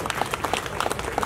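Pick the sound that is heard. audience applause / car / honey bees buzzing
audience applause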